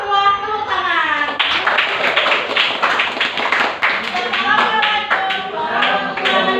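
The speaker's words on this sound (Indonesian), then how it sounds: "Ayo semua tepuk tangan." An audience claps after a presentation, a lively patter of many hands heard under overlapping voices, including children's chatter, continuing steadily throughout.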